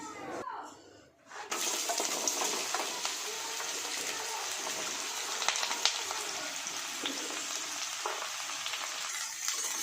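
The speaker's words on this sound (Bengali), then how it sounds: "গরম তেলের মধ্যে দিয়ে দিচ্ছি কেটে রাখা আলু আর ঝিঙে" Cut potatoes and ridge gourd sizzle in hot mustard oil in a wok: a brief clatter as they go in, then a loud, steady, crackling fry that continues close up.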